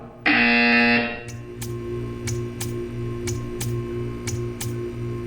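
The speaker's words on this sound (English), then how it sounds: "When you hear the buzzer, stare at the art." A loud, harsh buzzer blares for about a second in the video game Portal 2, followed by a quieter ticking pattern of evenly spaced clicks over a low hum.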